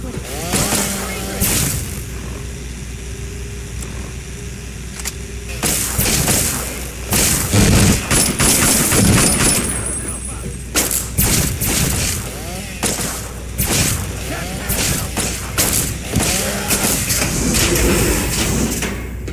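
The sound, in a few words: gunfire from soldiers in Fallout 3 video game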